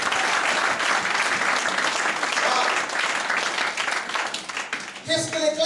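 A church congregation applauds together, a dense, loud burst of clapping that fills the space for several seconds, then thins and gives way to a speaking voice at the end.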